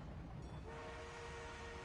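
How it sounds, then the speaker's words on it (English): An armored train arrives in a video game, with a loud, steady rumble of rail cars and a sustained horn-like tone rising partway through, heard alone. "The enemy is being reinforced with an armored train."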